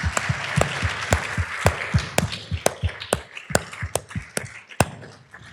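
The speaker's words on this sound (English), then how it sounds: "Don't we give a round of applause to the sponsor?" Applause for a sponsor at a conference session, heard as a small group's sparse, irregular claps with distinct sharp individual hits, fairly close and without talk.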